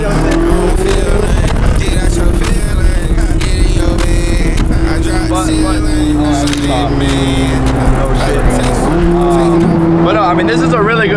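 A Chevrolet Corvette drives with a loud, sustained engine drone that shifts pitch as it revs and changes gear, while people talk continuously over the car noise inside the cabin.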